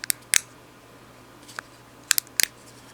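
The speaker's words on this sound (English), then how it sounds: "there's a on and off click, there's a rotating disc, there's another one that's on a ball pivot. These click individually." A plastic fidget cube with an on-off switch, rotating disc and ball-pivot parts gives sharp, close individual clicks, a pair near the start and then a single click and a quick double and triple burst, with quiet gaps between.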